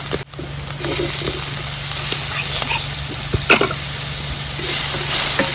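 Chopped tomato added to browned onions in a pan, sizzling and frying steadily with a constant close hiss and a few soft stirring clinks.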